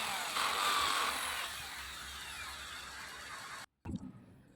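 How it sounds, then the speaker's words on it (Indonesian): A power drill bores a hole for the antenna mast in a Panasonic RL-4249MK3 radio cabinet during restoration, a steady loud whine that runs for several seconds, cuts out abruptly, then gives a brief closing burst. "Buat lubang untuk tiang antena."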